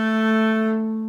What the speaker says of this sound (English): So first string is an A,